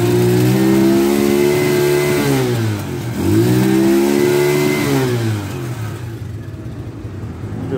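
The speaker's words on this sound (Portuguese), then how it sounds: "Vamos ligar ela aqui, vamos dar uma partida nela." A 2021 Avelloz AZ1 50cc motorbike engine revs up and down, its pitch climbing, dipping and climbing again in loud, close throttle sweeps before settling toward idle, with no talking.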